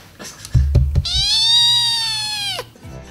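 A black-and-white kitten gives one long, loud, rising-and-falling meow close to the microphone, preceded by a few soft thumps and rustles.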